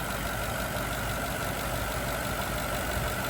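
A car engine idles steadily with the AC clutch engaged while the system is being recharged, a constant close, even drone with a low rumble and no talking.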